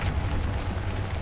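A Confringo fire spell blast in Hogwarts Legacy erupts as a short, loud, rumbling burst with a dense low-end roar lasting about a second.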